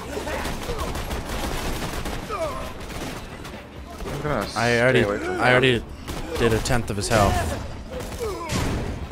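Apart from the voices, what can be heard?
gunfire from the video game Borderlands 2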